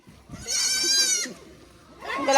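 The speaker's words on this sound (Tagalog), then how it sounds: "At least pinakita ko sa inyo na may mga bago tayong alaga ditong mga goats" Native goats give two loud, wavering bleats close by, the first long and drawn out, the second starting as the clip ends, with faint farm background in between.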